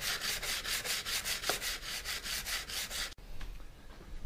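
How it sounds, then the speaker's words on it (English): Sandpaper rubs back and forth over a homemade Red Bull helmet in quick, even strokes, close and steady, then breaks off into quieter scattered scraping. "I'm also going to sand this clean."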